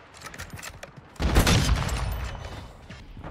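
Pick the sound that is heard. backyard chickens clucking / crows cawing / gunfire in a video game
gunfire in a video game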